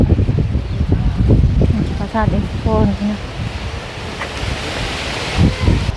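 Dry wind blowing across open fields in rural Thailand in December, a steady rushing buffet on the microphone that runs throughout beneath someone talking.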